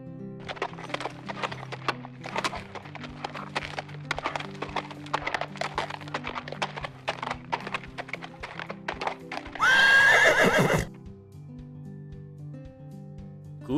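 Steady clip-clop of hooves repeats rapidly, then a loud horse whinny rings out before the hooves continue.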